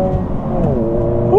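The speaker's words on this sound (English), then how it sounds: "rev match downshift like this, and then just let it go" Engine of a 2024 Honda Civic Si blipping during a rev-match downshift, a steady droning hum that dips and rises in pitch, heard from inside the car, ending with a brief upward flare.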